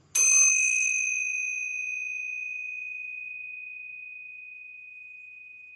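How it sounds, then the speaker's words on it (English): A single bright strike of tincture bells rings out alone, its clear pure tone sustaining and slowly fading over several seconds in a quiet space. "I'm going to go ahead and ring the tincture bells"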